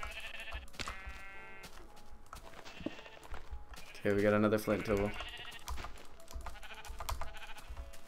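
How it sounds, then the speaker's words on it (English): Sheep in the video game Minecraft with the TerraFirmaCraft mod bleat several times, one loud nearby bleat standing out midway, while someone talks over game sounds and clicking footsteps. "Man, this is a ton of sheep."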